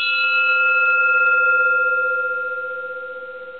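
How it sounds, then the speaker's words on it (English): A Japanese bronze Buddhist bell from the mid-1800s, struck once and left to ring out alone, its clear tone holding steady and then slowly fading with a gentle pulsing shimmer. "Beautiful bronze bell."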